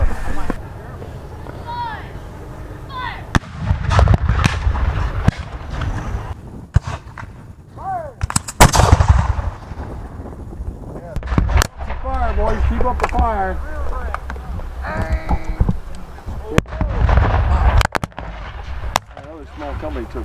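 Civil War reenactment artillery fire: several sharp, loud booms spaced across the span, each with a short rumbling tail, while people shout commands and talk throughout.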